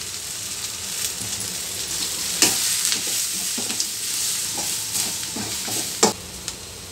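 Turmeric and coriander powder masala frying in a pan, a loud steady sizzle with repeated scraping stirs and spatula knocks scattered through it, no voices.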